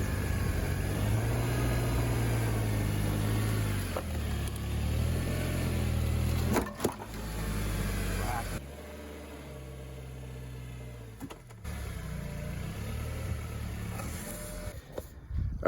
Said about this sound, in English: Let's go ahead and get the car up on the ramps